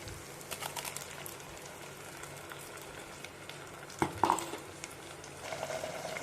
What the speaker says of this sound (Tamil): இந்த தக்காளி வதங்கிடும் அப்படியே.